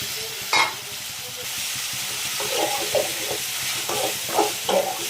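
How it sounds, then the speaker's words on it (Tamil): Ground tomato and onion paste sautéing in a pan, a dense continuous sizzle with repeated spoon scrapes and stirs toward the end, loud and close. "நல்லா வதக்குங்க. தக்காளி, வெங்காயம் அதோட ஸ்மெல் எல்லாமே போகணும்."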